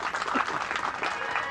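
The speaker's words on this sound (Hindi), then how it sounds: "तो चलो एक बार तो अपने लिए सब ताली बजा।" Audience clapping together at a Bhagavat Katha, a steady dense wash of applause sustained throughout, moderately loud with a faint murmur of voices underneath.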